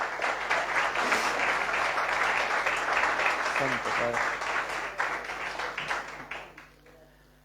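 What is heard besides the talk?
audience applause in church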